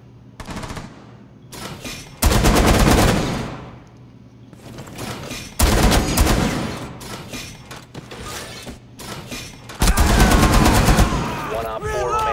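Bursts of automatic gunfire from the video game Rainbow Six Siege, loud and close, come in several long rattling volleys separated by quieter gaps with softer mechanical game sounds.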